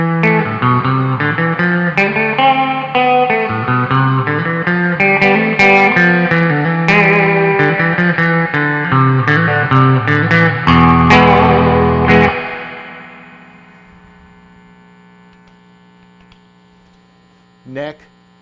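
Electric guitar with Mosrite-style pickups, neck and bridge selected at full output, plays a loud, distorted lead phrase of quick notes and held chords for about twelve seconds, then rings out into a fading hum with a brief pick noise near the end.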